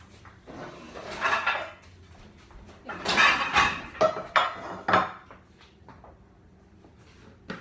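Rummaging through a home kitchen cupboard for large metal muffin tins: clattering pans, scraping metal and a few clunks in irregular bursts, close and moderately loud, with quieter pauses between.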